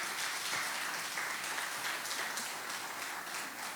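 A church congregation applauding, a dense continuous patter of many hands clapping at once, fairly loud and even, with no break across the few seconds.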